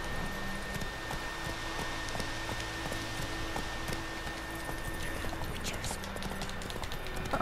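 Horse hooves clip-clop at a steady galloping rhythm in The Witcher 3 video game, moderately loud and continuous over low game ambience.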